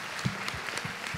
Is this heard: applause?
yes